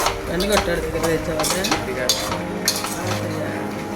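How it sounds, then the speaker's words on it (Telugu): A spoon stirs cabbage fry with chili powder and salt in a pan, sizzling softly. Repeated metallic scrapes and clinks fall in a quick, uneven rhythm over a low frying hiss. "అలాగా అంతా కారం ఉప్పు అన్నీ పట్టేలాగా తిప్పాలి"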